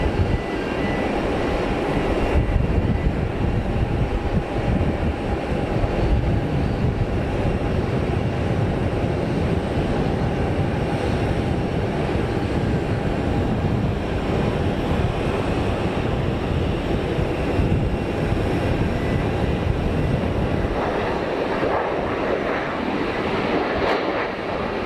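An airliner lands at Geneva Airport with thrust reversers deployed, a loud continuous broadband roar with wind-like rumble that holds steady for about twenty-five seconds with no talking.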